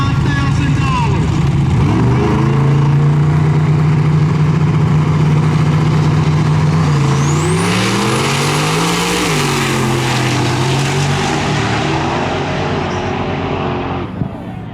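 A Firebird and other no-prep drag racing cars at Darlington Dragway, a loud close engine roar that holds, then shifts pitch as the cars rev and pull away, with a commentator talking over it.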